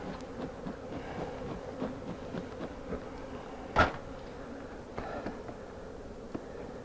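Honey bees buzzing around a newly installed hive, a faint, uneven hum with scattered soft knocks and one sharp bump partway through, no talking.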